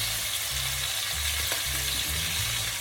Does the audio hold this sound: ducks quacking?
no